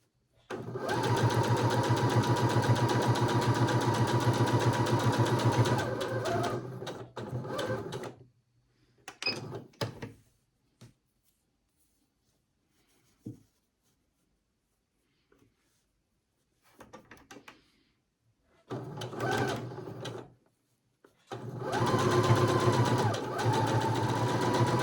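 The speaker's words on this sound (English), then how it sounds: "we are going to sew the rickrack in place using an 1/8 of an inch seam along the outside" Sewing machine stitching rickrack binding onto a quilt with an eighth-inch seam, running in steady mechanical bursts with pauses and a few brief clicks between them, close and loud.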